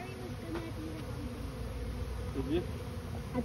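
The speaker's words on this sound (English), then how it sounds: "I got a good shot of the march of the bees" A honeybee swarm buzzes continuously up close while entering a bait hive, a thick humming drone with a brief louder swell near the end.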